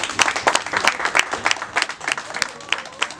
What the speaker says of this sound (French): si on peut l'acclamer